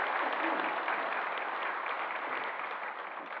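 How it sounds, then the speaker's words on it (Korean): A church congregation applauds during a Sunday worship service to welcome a new member. The clapping is even and fairly soft, heard from a distance, and thins slightly toward the end. "우리 박수로 환영했습니다"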